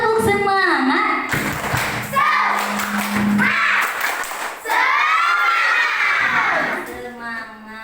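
A children's Islamic studies class does a rhythmic spirit clap, bursts of patterned clapping and thumps alternating with loud shouted chanting from the whole group, close and energetic, with a teacher's voice heard between the bursts.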